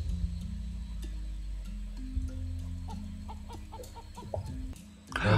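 A chicken in the survival game Raft clucks in short repeated bursts over a low steady game ambience and tonal hum, moderately quiet with no talk.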